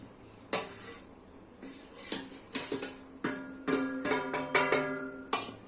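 Metal cooking pots and utensils clink and clatter in a kitchen as a pot is set down for tempering moong dal, a string of sharp, ringing knocks, close and fairly loud, with no speech.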